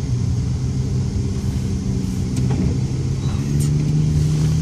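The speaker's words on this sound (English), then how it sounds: "I'm watching absolutely front-wheel drive cars do donuts." Front-wheel-drive cars spinning donuts in snow, with a steady engine drone and rising revs held at the limit, close and loud throughout, no one talking.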